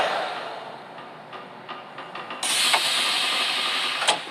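A metro train pulling into a station in Armenia, a steady hiss and rumble that jumps louder midway with a burst of broadband air noise, close and without talk.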